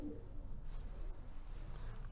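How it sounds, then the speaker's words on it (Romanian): Pigeons in a loft give faint, low, murmuring coos under a steady background hum, with no clear single call standing out. "Foarte frumos porumbel."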